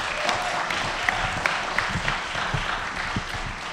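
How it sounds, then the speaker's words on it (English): Audience applause at a graduation ceremony for Restoration Academy, a steady wash of clapping from a crowd, moderately loud, with a few sharper individual claps standing out. "Let's clap it up."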